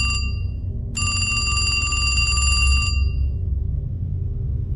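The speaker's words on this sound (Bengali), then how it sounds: "ঠিক তখনই আমার কাছে উমেশের ফোন এলো।" A bell-like electronic ringing tone sounds in two bursts, a short one and then a longer sustained ring, over a low rumbling background. It serves as a telephone ring effect in a horror story.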